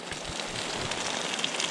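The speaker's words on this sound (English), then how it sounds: "Starting to rain a little harder." Rain falling on a canopy or awning at a meadow campsite, a steady broadband hiss of drops pattering close by with no talk.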